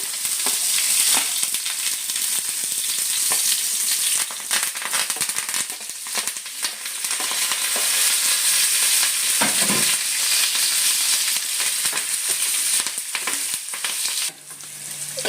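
Onion frying in a little oil with mustard seeds, a loud, close, continuous sizzle flecked with small crackles and pops, and a brief stirring scrape near the end.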